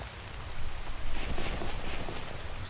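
Steady rainfall in the survival video game The Infected, a dense, even hiss of drops that holds constant throughout at moderate volume.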